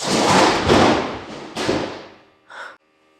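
A loud, heavy rumbling crash as built-up ice slides off a roof and thuds down, then fades, ending with a brief faint squeak.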